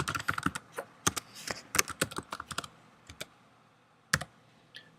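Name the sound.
typing a username on a computer keyboard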